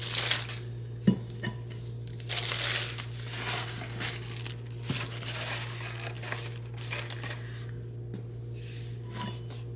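Thick plastic wrap on a 20 oz sublimation tumbler crinkles and rustles close up in irregular bursts over a steady low hum.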